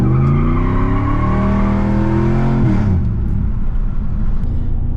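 A stock Chevrolet S10 pickup truck drives with its engine humming loudly, tires squealing and skidding in a sustained screech that bends and cuts off near the middle, then rumbling road noise continues close by.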